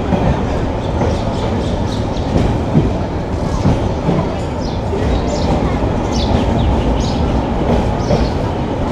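Saikat Express pulling into Cox's Bazar railway station, close, continuous rumble and rattle of carriages with occasional brief wheel squeals above the din, voices faintly present.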